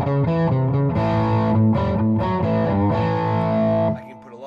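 Electric guitar played through a Roland Cube 80XL amp on its British combo setting, a mid-heavy, lightly driven tone with a quick run of notes and chords ringing out before fading.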